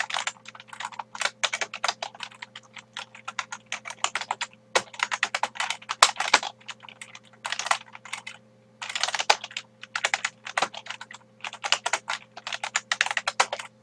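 Rapid keyboard typing in quick bursts with short pauses, close and clear, while a Cisco router is configured over telnet; a steady low hum runs underneath and no one speaks.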